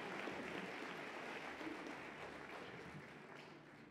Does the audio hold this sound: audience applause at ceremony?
yes